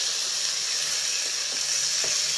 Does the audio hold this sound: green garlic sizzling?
yes